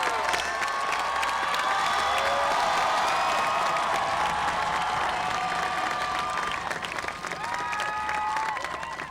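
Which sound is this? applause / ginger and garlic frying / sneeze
applause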